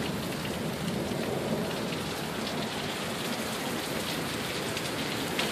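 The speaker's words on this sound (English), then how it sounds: "Wouldn't be bad if it were just the rain, but the wind is pretty insane too right now" A heavy summer downpour in Sioux Falls with thunder, a dense steady roar of rain hitting surfaces, loud and unbroken, with low rumbling underneath.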